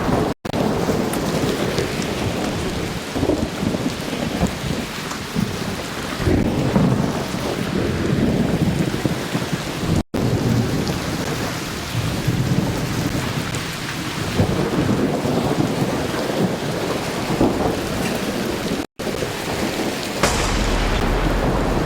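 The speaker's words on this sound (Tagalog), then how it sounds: "Nakakonsentrate na yata yung kidlat sa atin eh." A thunderstorm in the video game ARC Raiders brings loud, continuous heavy rain and rolling thunder, with deep rumbles swelling and fading throughout and brief cutouts in between.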